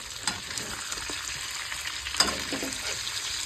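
Duck eggs fry in a pan with a constant close sizzle, broken by stirring scrapes and a sharper spatter near the middle.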